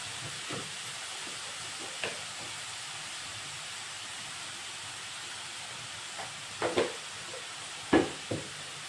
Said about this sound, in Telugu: ఇది కొంచెం గోల్డెన్ కలర్ రావాలండి ఆనియన్స్ అనేది. ఆ కలర్ వచ్చేందుకు వేయించుకుందాం.